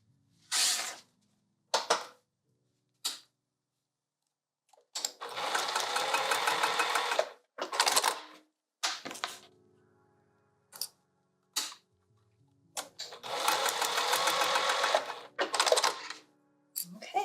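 A sewing machine bastes a vinyl sling strap with D-rings. Its needle chatters in short bursts and longer steady runs, with quiet pauses between them, heard up close.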